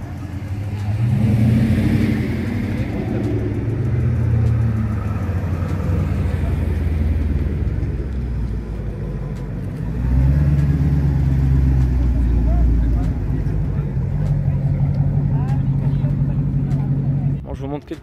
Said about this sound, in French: Les vroumeux qui arrivent.